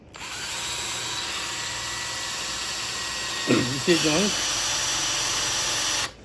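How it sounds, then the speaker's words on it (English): A Ryobi electric drill whines steadily for several seconds at close range, drilling into a metal gun tang, while a person speaks briefly over it, then the motor cuts off. "Just try to drill straight down."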